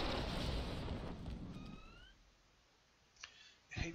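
An explosive charge detonates in Star Wars: Republic Commando, a loud broadband blast that rumbles and fades over about two seconds, followed by a few sharp clicks and pops near the end.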